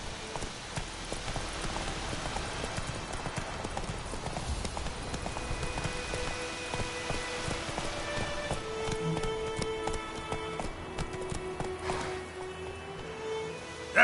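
The horse Roach gallops in The Witcher 3 with a steady, close rhythm of hooves clip-clopping over a soft rain-like hiss, and sustained musical tones rise beneath toward the end.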